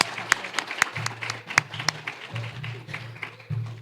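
An audience claps at a JCI USA gathering in Grand Rapids, a fairly faint, scattered round of individual hand claps with a few sharp nearby smacks over a low hum.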